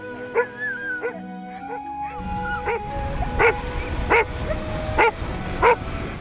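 Several dogs learning to ride in a dog sled yip and whimper in short repeated bursts, fairly close, with excited whining between the higher yelps and a faint low rumble beneath.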